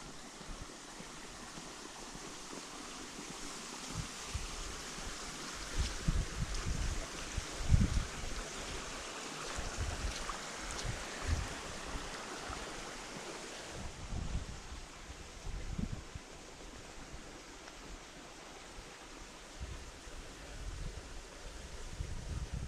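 A creek runs along Heart Rock Trail in a cool canyon, a continuous rushing of water mixed with gusts of wind buffeting the microphone, with no talking.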